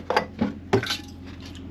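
Glass items rattle and clink in a caravan cupboard, giving a few quick, light chinks and knocks in irregular bursts at close range, with no talking.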